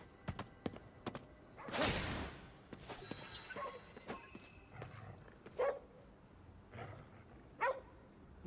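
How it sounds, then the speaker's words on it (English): A small dog in the video game Ghostwire: Tokyo barks a few times, with separate sharp yaps spread across the stretch over a steady bed of game ambience and scattered clatter. "A little dog."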